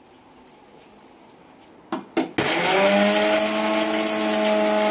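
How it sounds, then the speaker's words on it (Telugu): A mixer grinder kicks on and runs loudly and steadily, grinding fried cumin, coriander seeds, sesame and black pepper, after a few brief clicks and knocks as it is set up. "ఇప్పుడు మిక్స్ పట్టుకుందాం."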